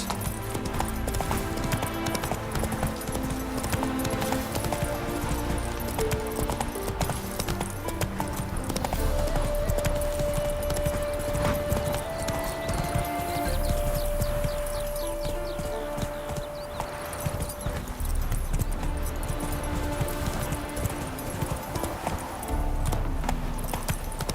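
Horse hooves clip-clopping at a steady gallop in The Witcher 3 video game, the rhythmic beats continuous and fairly loud over a layer of game music, with an occasional whinny and a brief spoken line.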